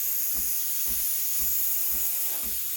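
A Breville Barista Express steam wand steams milk with a loud, steady, close hiss that never lets up, under a faint low pulse that repeats about every half second.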